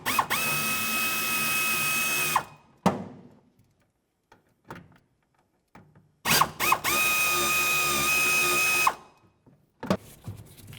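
A power tool spins a 7mm socket on the gas tank of a 1997-2004 Dodge Dakota during fuel pump replacement. Two loud, sustained whirring bursts are separated by a quiet pause with small clicks and rattles.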